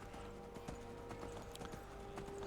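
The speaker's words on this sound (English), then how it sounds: "This horse is kind of fast." Horse hooves clip-clop steadily while riding in The Elder Scrolls V: Skyrim, a quick, continuous rhythmic gait close up over constant game ambience.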